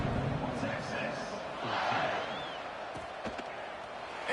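A video-game stadium crowd in College Football 26 buzzes and roars steadily after a score, a dense wash of noise under a commentator's ongoing play-by-play.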